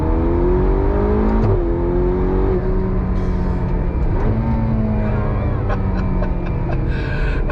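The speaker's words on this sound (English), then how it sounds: "I can't ever get bored of going on throttle in this car." A Ferrari GTC4 Lusso T's engine revs hard on throttle, a loud, rising and falling tone with several gear shifts and crackling bursts, heard close from inside the car.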